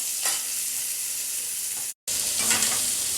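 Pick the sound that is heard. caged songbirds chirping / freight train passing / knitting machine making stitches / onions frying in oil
onions frying in oil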